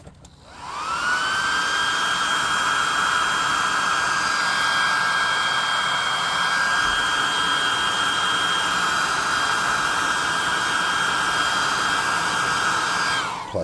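A handheld air blower runs loud and steady for about thirteen seconds, its hissing rush holding an even whine as it blows excess glue and baking soda off a tabletop RPG gorgon miniature, with no talk.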